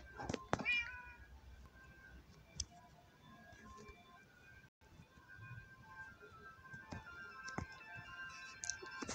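A cat in Minecraft meows several times in short bursts, fairly close, with faint clicking and soft electronic background tones between calls.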